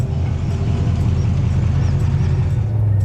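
An old black Bedford truck driving along, a continuous low engine rumble and road noise that stays close and loud throughout, with no talking.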